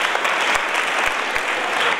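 An audience at a school science exhibition claps steadily, a dense, even burst of applause throughout.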